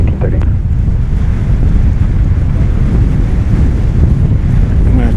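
Strong, gusty wind buffets the microphone outdoors at DFW Airport, a loud, steady roar of rumbling low noise that swells slightly without letup.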